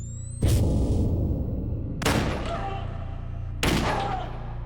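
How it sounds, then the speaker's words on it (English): A 9mm handgun is fired several times, giving three loud, booming bangs about a second and a half apart, each trailing off in a long, rumbling reverberant tail. "a 9mm gun being fired multiple times"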